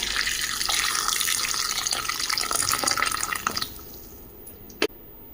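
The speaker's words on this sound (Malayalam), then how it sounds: "നമുക്ക് നല്ല തിളച്ച വെള്ളം ഒഴിച്ചു കൊടുക്കാം" Boiling water pours into a bowl in a steady, splashing stream for a few seconds, then stops, leaving a quiet pause broken by a single clink.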